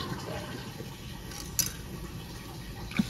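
About 50 ml of water is poured into a nearly empty condensed milk can to rinse out the rest, making a faint, brief splash against a steady background hiss, with a couple of light metallic taps.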